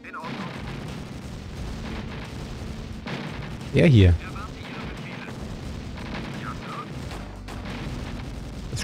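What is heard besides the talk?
gunfire in a video game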